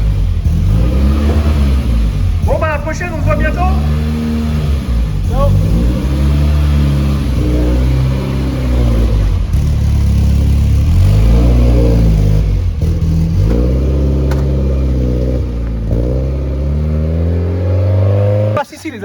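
BMW M3 E30 Group A competition car revving its engine, loud close blips rising and falling repeatedly in pitch with a raw racing tone, under people talking nearby.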